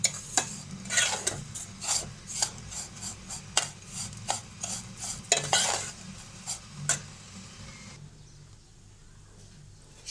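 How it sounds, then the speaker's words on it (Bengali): Vermicelli frying in a pan is stirred with a utensil, giving repeated loud scraping and rasping strokes over a soft sizzle; the strokes stop near the end, leaving a quieter hiss. "একটু সময় নিয়ে লালচে করে সেমাইটাকে ভেজে নিতে হবে।"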